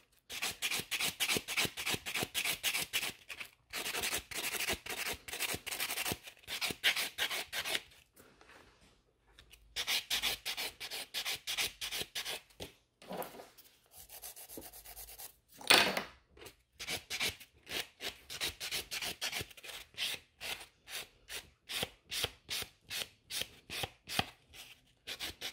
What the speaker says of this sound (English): So I'm filing in the middle first.